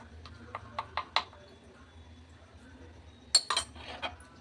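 Eggs mixed with salt, turmeric and chili powder in a bowl, heard as a run of light spoon-on-bowl clinks and taps, a quick burst early and another later, close and fairly faint.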